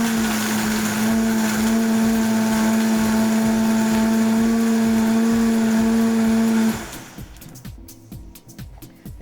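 A blender grinds ice for a creamy drink, a loud steady whirring drone that runs for several seconds and then cuts off, leaving faint clattering and rattling.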